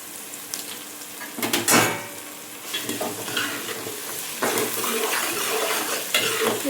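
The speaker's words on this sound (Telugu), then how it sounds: "అలా ఫ్రై అవుతున్నాయి కదా, అలా దోరగా వేగినప్పుడు" Fish pieces fry in a pan for a Telugu-style fish curry, hissing and sizzling steadily up close while a utensil stirs and scrapes against the pan now and then.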